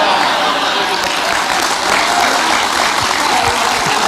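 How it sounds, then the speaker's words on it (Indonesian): Audience clapping at an Indonesian religious talk, a steady broadband wash of many hands lasting the whole stretch, fairly loud and close, with voices murmuring underneath. "Kok sampean kok tepuk-tepuk"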